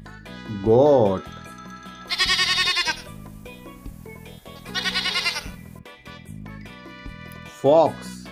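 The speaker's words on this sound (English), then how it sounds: "Goat." A goat bleats in two short, wavering cries, one near the start and one near the end, over background music with brighter, chattering bursts in between.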